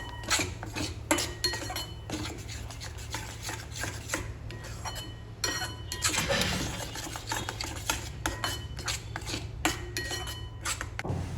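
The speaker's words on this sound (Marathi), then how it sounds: "हळूहळू मी आता ते परतवण्यास सुरुवात केलेली आहे." A spoon stirs and sautés spice paste in oil in a kadhai while cooking Khandeshi pongyachi bhaji, making repeated scraping clinks and rubs against the pan over a low steady hum, with no speech.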